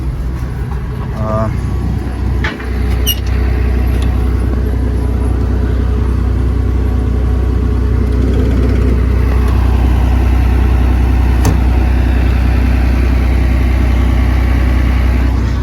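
A 1055 combine harvester engine runs steadily as the machine rolls back, a loud continuous low rumble with a brief knock early on and no pause throughout.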